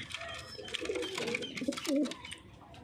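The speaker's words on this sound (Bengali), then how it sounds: "ওই সাইডে দেখেন কিছু পায়রা আছে" Several pigeons coo softly nearby, overlapping throaty calls in short bursts, with faint background chatter.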